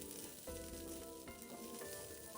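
Glutinous rice stir-fried in a wok over medium heat, a continuous close sizzle broken by a few spatula scrapes.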